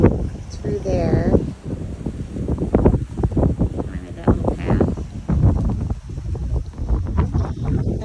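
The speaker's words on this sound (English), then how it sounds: "It's windy out here" Gusty wind buffets the microphone outdoors in an Arizona low-desert garden, rumbling low and uneven while a person talks over it.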